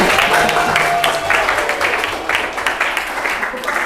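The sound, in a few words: classroom applause for groups scoring 100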